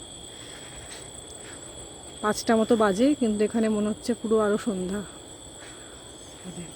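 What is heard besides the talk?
crickets chirping at dusk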